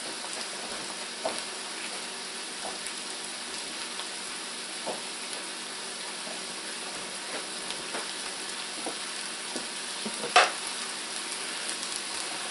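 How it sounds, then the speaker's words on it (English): Onions fry in a pan with a steady, soft crackling sizzle that runs without a break, dotted with tiny pops and one sharper spit near the end, no talking. "We got a good fry going."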